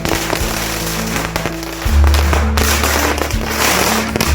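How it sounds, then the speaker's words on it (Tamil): A 5000-wala string of firecrackers bursts in a loud, rapid crackle of continuous pops. It rattles on without letup, with heavier booming thumps partway through. "இது 5000 வாலான்னு நினைக்கிறேன். இதுவும் செமையாக இருந்துச்சு வெடிக்கிறதுக்கு."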